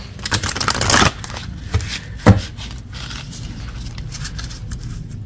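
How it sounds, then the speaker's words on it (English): Oracle cards are shuffled close by, with brisk riffling and flapping bursts followed by softer rustling and scraping. "I can't help but shuffle this one because it's so pretty."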